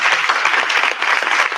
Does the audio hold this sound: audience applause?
yes